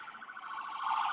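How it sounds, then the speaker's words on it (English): A steady electronic siren wail, fairly faint and thin-sounding, holding a continuous rising tone throughout with no voices. "It's a little ambulance."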